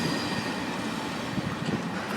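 A freight train without a caboose, its end marked by an end-of-train device, rumbles past in Japan with steady broadband clatter and rail noise, fairly loud and continuous with no speech.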